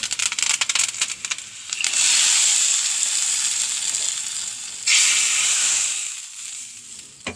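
Onion and curry leaves hit hot oil in a tempering pan for a dried shark fish curry, giving a loud, steady hiss that swells in two bursts and then settles into continuous frying.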